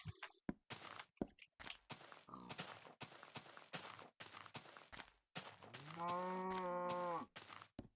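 A Minecraft cow lets out one drawn-out, tonal moo near the end, after a run of sharp block-placing thunks and footstep clicks in the game.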